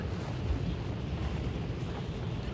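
A Bomb Lance blast in the video game Hunt: Showdown, a dense, roaring explosion with heavy low rumble that holds loud and steady without letup.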